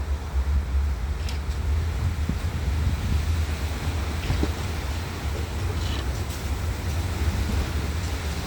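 Strong, gusty wind blows steadily and loudly into the microphone outdoors, with a heavy low rumble of buffeting throughout and no talking.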